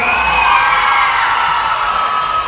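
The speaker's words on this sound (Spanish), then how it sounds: "aplauso para ella." Loud crowd cheering and whooping at a Latin sonidero dance party, a dense continuous roar of voices with shouts and whistles close by.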